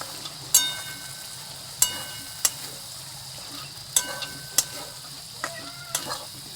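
Chopped tomato fries in a pan under a steady low sizzle, broken by about eight sharp metallic taps and scrapes of a spoon against the pan at irregular intervals, close by with no talking.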